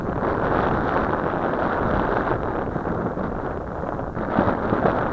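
Strong, steady wind buffets the microphone outdoors while a Syma X5C quadcopter drone hovers, a loud continuous roar with slight surges and no speech.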